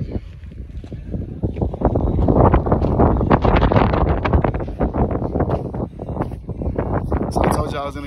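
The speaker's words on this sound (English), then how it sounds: "Excuse the wind." Heavy wind buffeting the microphone in loud, gusty bursts of rumbling noise, continuous throughout with rustling underneath.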